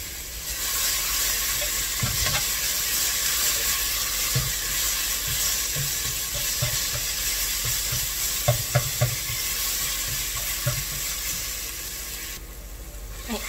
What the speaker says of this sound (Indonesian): Ini tumis sampai harum ya.